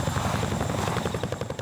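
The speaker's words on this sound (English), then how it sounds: "So what's the giant helicopter used for now the Cold War's over?" A giant Mil Mi-26 helicopter thunders close by, its rotor chop a dense rhythmic pulsing over a constant loud engine roar, with no voices.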